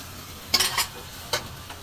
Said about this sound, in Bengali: আমার কিন্তু মশলাটা কষানো হচ্ছে